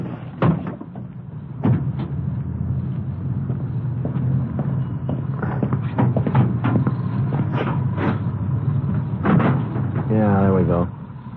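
A car hood release is pulled and the hood lifted, producing a few dull clunks and metallic latch clicks under nearby conversation, with a final rattling creak as it opens.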